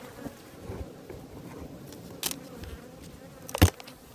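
Many bees hum at an open apiary hive fitted with an extra feeding board, a low steady drone near the listener with a few sharp knocks and rustles, one louder bump late on.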